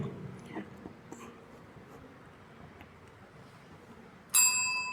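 A single bell or ding sounds once, loud and bright, near the end, after a stretch of quiet room noise, as part of a finger-tracing Hindi letter activity at a learning fair stall.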